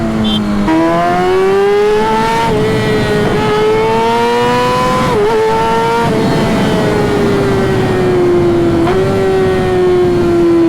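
A Kawasaki ZX-6R sport motorcycle engine revs at full throttle, a loud, close, high-pitched wail climbing through the gears with brief dips at each shift.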